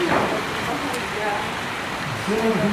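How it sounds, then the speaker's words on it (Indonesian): Steady rain falls with a continuous soft hiss, while a voice talks over it. "Oh my god, hujan."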